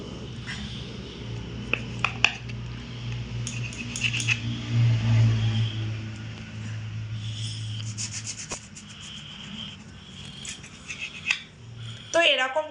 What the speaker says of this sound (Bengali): এবার এই যে রোলটার দুই দিকের এই অংশটা একটু কেটে ফেলে দেব।